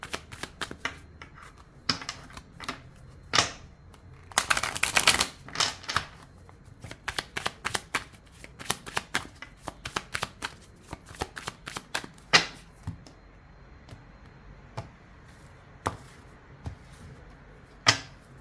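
Oracle cards are shuffled by hand, close up: irregular crisp riffles and slaps, with a dense flurry near the start and scattered snaps after it, in a quiet room.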